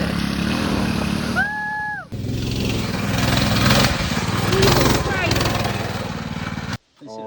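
A mini bike engine at a mini bike gambler event revs with the throttle stuck wide open, a loud, steady buzzing drone that carries on for several seconds before cutting off abruptly near the end, with voices talking over it.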